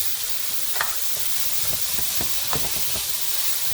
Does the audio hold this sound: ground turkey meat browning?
yes